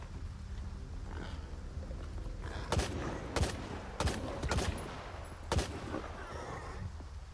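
Several sharp, separate gunshots from a gun in STALKER 2 fired in quick succession over a steady background hum, with no talking.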